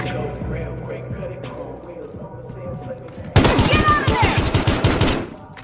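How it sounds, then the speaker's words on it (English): Bursts of automatic gunfire ring out in the police shooter video game Battlefield Hardline, loud and rapid after a quieter stretch of ambient game sound and distant shots. "Report shots fired at their location"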